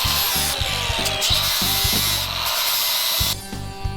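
A power tool grinding metal smooth during work on an FJ45 rock crawler build, a loud steady whine with a rhythmic pulsing low chug, pausing briefly before starting up again.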